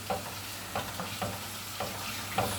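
Grated onion, carrot and potato sauté in a pot for red lentil soup, with a steady close sizzle and about five evenly spaced stirring scrapes.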